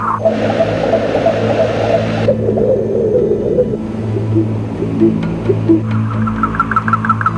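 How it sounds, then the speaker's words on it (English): Tones sent out into the darkness through a radio transceiver play as low, sustained droning hums with a hissing band overhead, shifting in pitch and closing with a series of pulsing higher beeps, loud and continuous with no talking. "So what we're going to do is project these tones with a radio transceiver."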